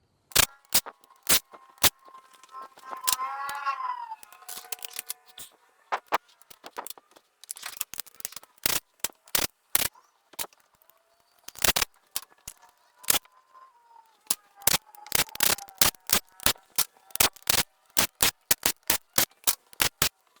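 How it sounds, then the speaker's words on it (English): Impact driver removing valve cover bolts on a 2016-2019 Chevy Malibu Hybrid 1.8L engine, with repeated sharp rattling bursts of varying length separated by short pauses, close by and loud. "I'm just going to use an impact driver just to make this go a little bit quicker."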